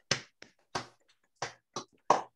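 A few scattered hand claps from a small online audience at a virtual poetry reading, about six separate faint claps spaced irregularly, with no voices.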